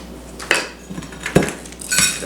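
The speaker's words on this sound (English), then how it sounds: "Just go ahead and start stirring." Chunks of brown sugar are stirred in a bowl, a utensil scraping and clinking against the sides in a few irregular strokes, close and fairly loud.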